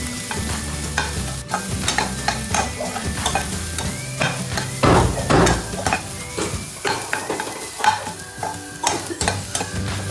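Coconut, green chili and ginger frying in a pan, with a continuous sizzle under repeated stirring and scraping of a utensil against the pan, close and steady, with no talk.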